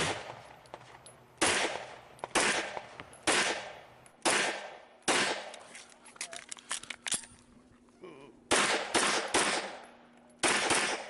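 Rapid pistol shots ring out at an IDPA shooting match stage at the Blade-Tech Lone Star Championship, loud sharp cracks in quick strings and doubles with brief pauses between bursts, close to the microphone.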